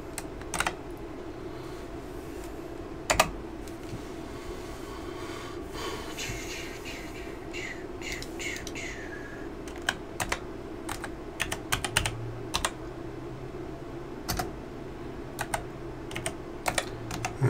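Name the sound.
typing slowly on a sticky computer keyboard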